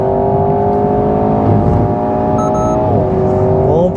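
An Alpine A110 S sports car on the Paul Ricard circuit holds a loud, steady engine drone with rising and falling pitch through a gear change. There is no talk, only continuous close engine sound.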